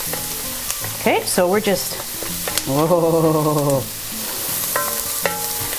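Onion sautéing in a pan, a soft steady sizzle under a voice, with a child's high-pitched vocal sounds in the middle.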